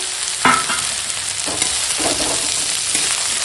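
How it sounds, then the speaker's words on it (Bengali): Palta (pointed gourd) leaves and cumin paste sautéing in a pan, a steady broadband sizzle with a few close spoon-scraping stirs at intervals, no voices. "এখন দিয়ে দেবো এই যে কেটে রাখা পলতা আর জিরে বাটা দিয়ে একসঙ্গে"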